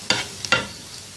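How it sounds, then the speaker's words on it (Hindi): Two tablespoons of finely chopped onion sauté in hot oil, a steady close sizzle broken by two sharp stirring scrapes of a spoon in the pan. "2 खाने के चम्मच प्याज बिल्कुल बारीक कटा हुआ। 1-2 मिनट सौते करेंगे इसको।"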